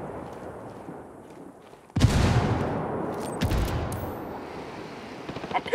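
A frag grenade blast and gunfire in the video game Ghost Recon Wildlands at a quarry: quiet ambience, then a sudden loud explosion followed by sustained rumbling gunfire and further bursts.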